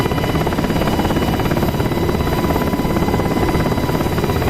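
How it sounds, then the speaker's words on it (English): Helicopter in the DCS World 2.8 flight simulator on the Persian Gulf map, a steady loud rotor drone with dense rhythmic blade chop and engine whine that holds constant throughout, with no voices. "Let's go up with a helicopter."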